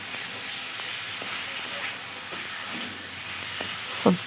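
Boiled potatoes with spices sauté in a pan with a steady close sizzle and hiss, broken by occasional soft scrapes of stirring and a brief clatter near the end.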